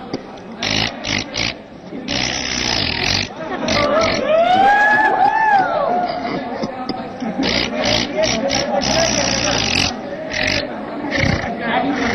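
A voice imitates a tractor engine straining while stuck with its gearbox jammed, a loud wavering rising-and-falling groan in the middle of a studio talk segment, with speech and laughter around it.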